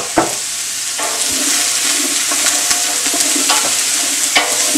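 Broccoli stems and onion frying in a pot, a loud continuous sizzle broken by occasional stirring scrapes and knocks.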